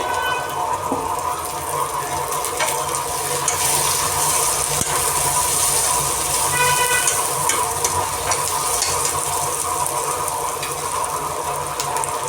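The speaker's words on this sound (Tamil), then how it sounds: "வெண்டைக்காய் வெண்டைக்காய் நல்லா வதங்கணும்" Okra (lady's finger) fries in a pan with a loud, continuous close-up sizzle and crackle, joined by occasional scraping and stirring noises throughout.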